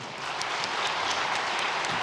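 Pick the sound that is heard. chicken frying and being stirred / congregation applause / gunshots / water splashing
congregation applause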